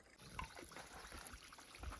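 Cold water trickling and splashing from a mountain stream as a container is filled outdoors, a steady close gurgle with brief louder splashes.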